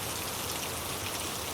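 Steady rain falls in a constant, dense hiss of drops with no pauses and no voices.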